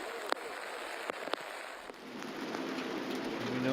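Steady rain patters on the grass of a golf course during a women's professional tournament round, a broad even hiss with a few sharper drop hits, building slightly louder toward the end.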